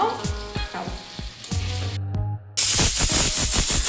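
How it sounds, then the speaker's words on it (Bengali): Potatoes, cauliflower and peas frying together in a pan for aloo gobhi matar, a loud sizzle with scraping stirs and clatter, briefly cut off, then a dense hissing fry. "সবগুলোকে একসাথে মিলিয়ে ভেজে নিয়েছে"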